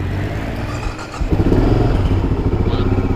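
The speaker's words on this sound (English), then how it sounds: "Let's see if my bike starts." A motorcycle cranks and fires up nearby, settling into a loud, rough idle with a pulsing engine note; the bike is later traded for a BMW.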